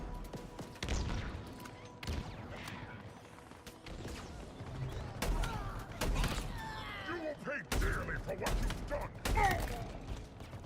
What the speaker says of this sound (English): Okay, headshots with the shotgun that work.